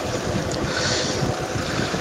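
Water gushes continuously from a tube well driven by a 12 hp submersible pump on a 16 kW solar system, a loud, steady rushing splash close to the outlet with no talk over it.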